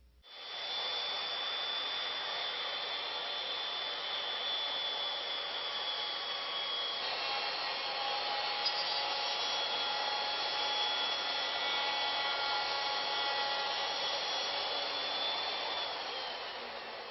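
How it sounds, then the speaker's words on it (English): Router bit milling a wooden bowl, a steady high-pitched whine with a rushing cutting noise that runs unbroken for the whole stretch, fairly even in level and without talk. "Now we'll go ahead and lower the router bit down and cut it down probably about halfway or 1 inch."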